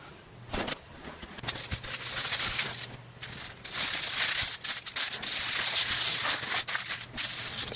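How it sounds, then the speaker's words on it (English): Continuous crinkling and rustling of aluminium foil being wrapped around a smartphone and pressed, close up, with scattered sharp crackles throughout. "now let's wrap this one with aluminium foil"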